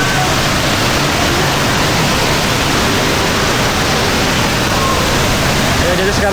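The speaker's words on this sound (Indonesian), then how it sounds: "Kita lihat dulu air terjunnya sebentar ya." A small waterfall at Sungai Trik, Gunung Rambutan, Indonesia, roars loudly and constantly from close by, with no other sounds standing out.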